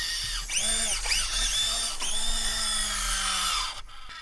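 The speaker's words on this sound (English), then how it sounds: "And the drivetrain's a little noisy." The drivetrain of an FMS FCX18 K10 RC crawler whines and whirs steadily, pitch wavering as it labors, with gear noise close by before it stops.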